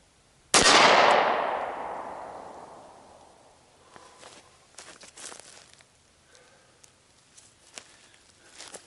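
A single loud gunshot at an outdoor range rings out and decays slowly over a few seconds, followed by faint scattered clinks, footsteps and handling noises, with no voices.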